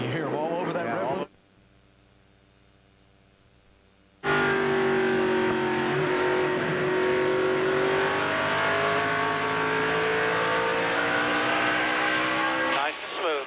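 NASCAR Cup Series race cars at New Hampshire Speedway in 2003 roar loud and close, engines sustained at high revs after a brief drop-out, with radio chatter from the team over the noise.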